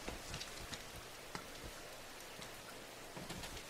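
Rain in the PS3 video game Rain, a steady, soft hiss of downpour with scattered drops ticking on surfaces, faint and continuous with no voices.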